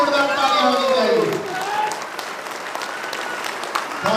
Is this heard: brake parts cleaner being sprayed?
no